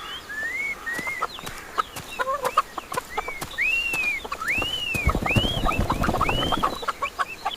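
Chickens in a backyard coop cluck and call repeatedly in rising, bursting notes, several birds near and far, with scattered sharp knocks and rustling, no talking.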